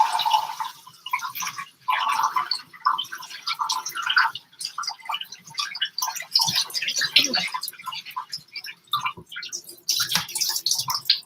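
Organic pre-washed greens are rinsed under running tap water in a kitchen sink, with splashing and trickling that comes in bursts and pauses, close and fairly loud.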